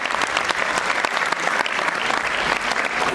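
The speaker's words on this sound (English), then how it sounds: "Please give them a huge round of applause." Audience applauding at a student class presentation, a dense, steady wash of many hands clapping close by throughout, with no voices rising above it.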